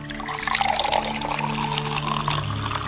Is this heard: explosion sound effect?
no